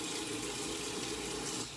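Cold water runs steadily from a kitchen tap into a sink, a continuous broadband rush that stays even and close for the whole stretch with no talking over it.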